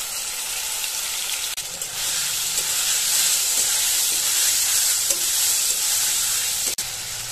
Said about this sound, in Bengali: মশলা দিয়ে দিচ্ছি।